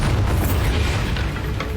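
A Bombarda spell explodes in Hogwarts Legacy as a loud, deep boom followed by a sustained rumbling roar that slowly fades.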